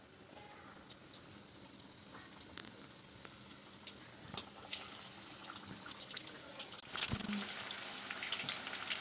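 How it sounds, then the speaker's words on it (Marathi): Chicken lollipops deep-frying in hot oil over a medium gas flame, a steady crackling sizzle with scattered pops that swells louder and busier near the end. "आणि हे असे तेलामध्ये सोडायचे. थोडा गॅस मीडियम ठेवला मी, फास्ट नाही ठेवायचं, जरा मीडियम गॅसवरच तळायचे."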